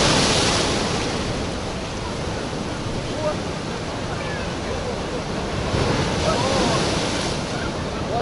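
Storm waves pound the beach at Alushta in a continuous close roar of surf, mixed with gusting wind buffeting the microphone.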